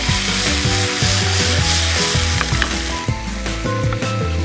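A garlic sauce for broccoli and dried shrimp stir-fry bubbles and sizzles hard in the pan, a dense continuous fry with a low rhythmic knocking running under it.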